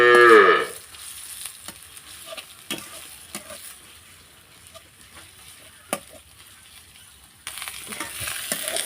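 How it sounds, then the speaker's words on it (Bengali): Ginger and garlic paste fries in a pan with browned onions for a village-style desi chicken bhuna, giving a soft, steady sizzle with scattered stirring clicks and louder bursts at the start and end. "আদা রসুনটা আমি ভালোভাবে এখন ভেজে নেব"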